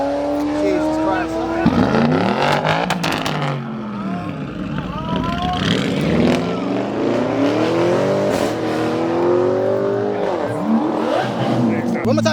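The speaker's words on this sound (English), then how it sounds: "One more time, rev it, please." Sports car engine revving hard at an exotic car meet, loud and close with rising and falling harmonic sweeps, under excited crowd talk and shouting.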